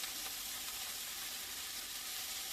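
Vegetables for fajitas sizzle steadily in a hot pan, a dense continuous frying hiss that holds at an even level throughout, close by, without any talking.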